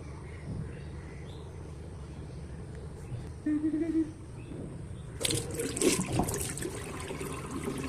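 Tap water runs and splashes while a face is washed at a sink on a muggy, overcast morning, a low steady trickle that turns louder and more broken with splashing in the last few seconds.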